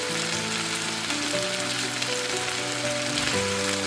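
Cabbage and fried dumpling wrappers stir-fried in a pan, a steady crackling sizzle with oil spitting throughout, backed by soft music tones and no talking.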